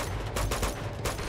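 Rapid gunfire in Uncharted 2 cracks in a dense, close burst of overlapping shots that lasts about a second.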